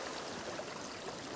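Low tide water trickling along the Bristol Channel shore, a steady soft hiss of running water heard close and constant throughout, with no voices.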